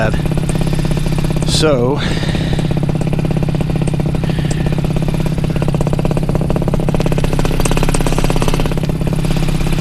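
A paramotor engine runs at a steady idle, a loud buzzing drone with a rough harmonic texture, while someone speaks briefly over it near the start.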